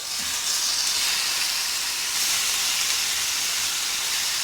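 Marinated chicken pieces sizzle on a very hot pan for a barbecue-sauce chicken dish: a loud, dense, unbroken hiss that holds steady throughout.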